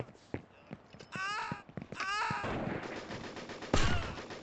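AK rifle gunfire in a video game: scattered sharp shots, some in quick bursts, ringing out at moderate loudness with busy game noise between them.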